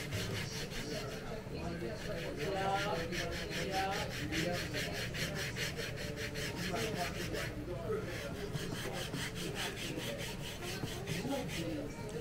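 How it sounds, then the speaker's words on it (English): Wooden parts are sanded down by hand in steady, rhythmic back-and-forth rasping strokes, close and continuous, with faint talk in the background. "of sanding them down, getting the lines right"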